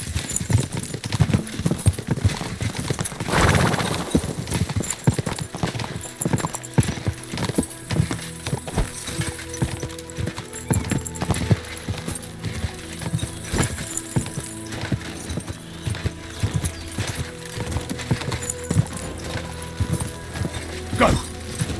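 Horses gallop in Kingdom Come: Deliverance II, with steady, dense hoofbeats running through the whole stretch alongside game sound, music and occasional whinnies.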